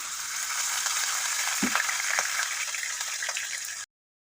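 Garlic, onion and ground pork sizzle steadily in a large pan, a continuous loud frying hiss with a few soft stirring clunks, then it cuts off abruptly.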